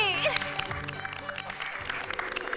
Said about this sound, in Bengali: রিভু আর জয় জোরে হাততালি